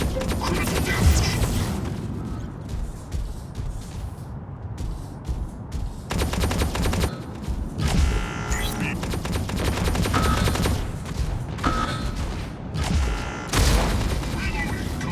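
Incoming gunfire in the mech combat game Mech Arena, bursts of rapid heavy shots and impacts separated by short lulls, loud and close, with a voice speaking at times.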